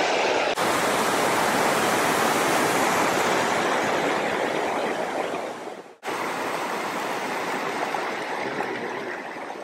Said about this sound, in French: On est à la cascade.